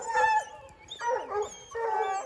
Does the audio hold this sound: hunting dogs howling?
yes